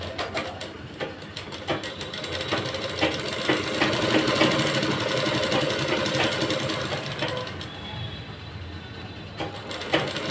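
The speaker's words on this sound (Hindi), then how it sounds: "सिल देंगे।" An electric sewing machine stitches the bottom hem of a salwar, running in a steady rapid whirring drone for about ten seconds, close and fairly loud, with no talking.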